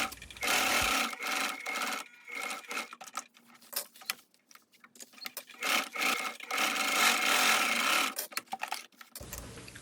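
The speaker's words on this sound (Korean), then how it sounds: "윗카라와 밑카라는 이렇게 표시한 대로 3면을 돌아가면서 박음질을 합니다." A sewing machine stitches around three sides of a trench coat collar in several bursts, each whirring run broken by short pauses and fabric handling, heard close and fairly loud.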